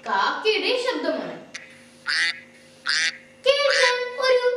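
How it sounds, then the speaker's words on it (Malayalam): A duck quacks in three or four short, harsh bursts, the last one longer and louder, heard fairly close after a voice speaks at the start. "ആ, ഇത് താറാവിന്റെ ശബ്ദമാണ്."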